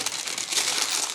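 Parchment paper crinkles and rustles continuously at close range as chicken breasts are rolled up in it, a bright, dense crackling with no voice over it.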